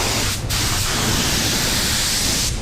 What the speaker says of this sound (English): you want to put it on like a light coat of clear coat.